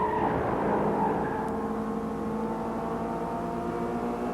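Production race cars from the 1988 championship round head toward Graham Hill Bend, their engines whining loudly at first, then settling into a continuous humming drone.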